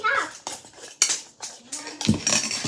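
A utensil works slime around a bowl, giving short, close clinks and scrapes in quick uneven bursts.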